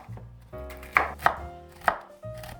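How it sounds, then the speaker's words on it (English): A knife chops toasted pecans on a cutting board, with steady close thuds roughly every third of a second over a low hum of background music. "And then chop them up nice and fine."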